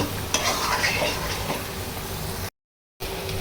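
Masala for a liver curry sautéed and stirred in a pan: steady close sizzling and frying with scraping stir strokes, continuous until a brief silent cut near the end, then the sizzle resumes.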